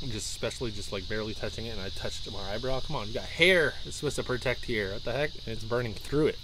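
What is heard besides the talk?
cicadas buzzing outdoors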